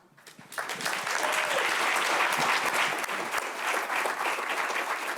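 A crowd gives a group a sustained round of applause, with dense, steady clapping that swells quickly and continues evenly without any talking.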